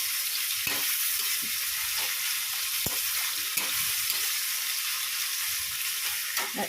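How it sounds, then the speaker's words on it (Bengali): Onion and tomato fry in hot oil with whole garam masala spices, giving a steady, close, bright sizzle broken by occasional soft stirring scrapes and pops, with no talking. "এদিকে পেঁয়াজ আর টমেটো ভাজতে বসিয়ে দিয়েছি তেলের মধ্যে গোটা গরম মশলা দিয়েছি"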